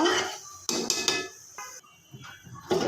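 Polao rice being stirred in a pot with bay leaf, cinnamon, cardamom and salt for chicken biryani; a spoon knocks and scrapes against the metal in several sharp, irregular clanks with short quiet gaps between them.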